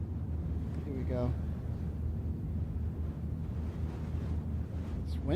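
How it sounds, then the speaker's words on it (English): Wind buffets a microphone outdoors at about 800 feet up, a steady low roaring rush throughout with a brief voice early on. "It's windy out here"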